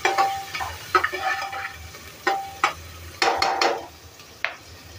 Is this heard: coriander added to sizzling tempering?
yes